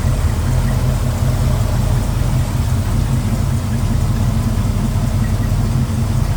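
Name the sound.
1967 Ford Ranchero engine idling with Edelbrock 4-barrel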